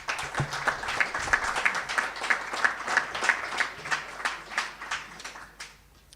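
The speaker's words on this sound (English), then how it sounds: "Now, we're going to ask everyone to applaud everyone that's here at the head table." Applause from an audience honoring the head table at a track and field meet, a steady patter of many hands clapping at moderate distance for about six seconds with no talk over it.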